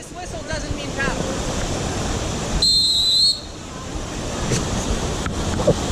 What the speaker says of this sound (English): This whistle doesn't mean paddle.